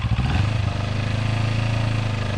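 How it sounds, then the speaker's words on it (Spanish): A CF Moto NK 400 motorcycle engine, already running at a steady idle, gives a loud, close, even low rumble with rapid regular pulsing and no voices. "Ese es el sonido de la moto."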